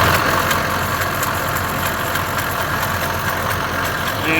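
A car or truck engine runs steadily with a noisy tensioner pulley, giving a dense, continuous drone and whir at close range with no talking.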